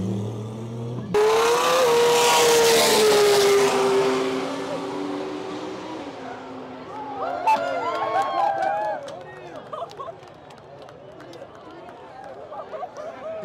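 An 1800-horsepower Nissan R34 GTR race car on track roars through a loud acceleration with rising engine pitch, then fades into the distance under crowd noise and an announcer's voice.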